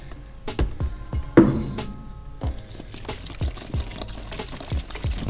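Liquid is poured over a dirty car wheel to soak it, giving a close splashing, dripping spray with repeated bursts and one stronger gush early on.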